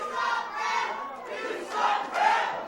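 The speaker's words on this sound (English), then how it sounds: "Listen to that crowd. They're heckling David Weekly." A crowd at an independent wrestling event in an arena heckles a wrestler, with loud jeering shouts rising and falling in several waves.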